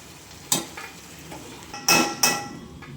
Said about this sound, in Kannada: ಹೆಂಗೆ ಬೇಯ್ತಾ ಇದೆ ಚಟ್ನಿ ಎಣ್ಣೆಲಿ